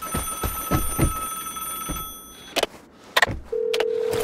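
Telephone in the Vigor video game ringing in a few sharp bursts after some clattering, ending in a steady tone, with no voices.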